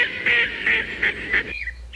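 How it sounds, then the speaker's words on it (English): Loud nasal duck quacks sound in a rapid string of about five honking calls, close and alone, a sound effect on a children's story record. "Chicken Licken, Henny Penny and Cocky Locky met Ducky Lucky."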